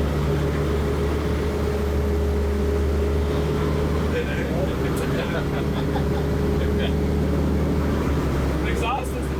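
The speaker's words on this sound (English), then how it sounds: "The exhaust isn't too bad" A restored Kenworth K100 truck runs with a 7-inch straight-pipe exhaust and straight mufflers, giving a constant deep, throbbing engine rumble that stays loud and steady throughout, with faint voices in the background.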